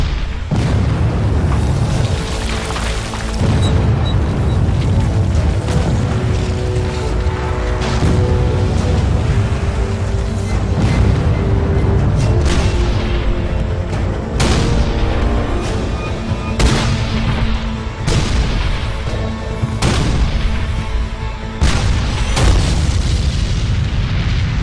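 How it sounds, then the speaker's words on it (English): A massive Civil War artillery barrage at Gettysburg: heavy, overlapping cannon booms roll continuously and loudly, with repeated sharp reports rising out of a dense rumbling wall of sound. "It's the largest artillery barrage ever in the Western Hemisphere."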